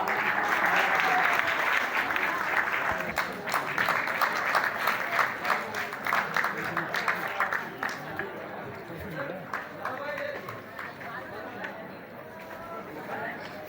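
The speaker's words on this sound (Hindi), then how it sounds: "Most senior comedy king, writer, director, आपकी तालियों में रऊफ लाला।" Theatre audience applauding at a drama festival: dense, loud clapping mixed with crowd chatter that holds strong, then gradually thins toward the end.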